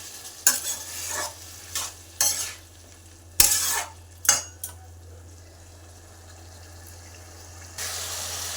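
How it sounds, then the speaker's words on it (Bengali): Vegetables being stir-fried in a pan with a splash of hot water for dalia, giving scattered stirring scrapes and short bursts of sizzle that stand out, then settle into a quieter steady simmer near the end. "সামান্য একটু জল দিয়ে সবজিটা একটু ভালো করে কষিয়ে নেব"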